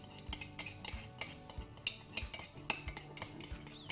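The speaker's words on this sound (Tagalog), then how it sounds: "We'll just mix this." A spoon mixes cockatiel food in a dish, making quiet, rhythmic clinks and scrapes of metal against the bowl, repeated about every half second.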